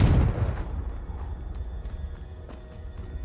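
Casting the Confringo fire spell in Hogwarts Legacy sets off a loud, close explosion at the start, and its low rumble fades away under a faint crackle of debris.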